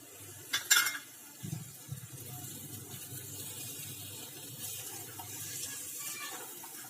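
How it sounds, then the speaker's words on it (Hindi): Finely chopped onion and tomato being mixed into mashed potato in a pan for aloo chokha: a few sharp utensil clinks at the start, then soft, steady scraping and stirring close by, with no talking. "तो ये जो बारीक कटी हुई प्याज थी इसे इसमें डाल देंगे और ये टमाटर।"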